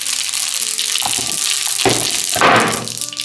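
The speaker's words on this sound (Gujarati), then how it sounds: "જીરું ફોડવા દઈ ત્યારબાદ તરત જ આપણે તલ નાખી દઈશું." A cumin and sesame seed tempering crackles in hot oil over a low flame, a loud, continuous sizzle that swells toward the end, with no voices.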